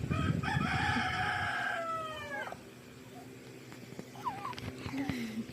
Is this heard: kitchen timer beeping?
no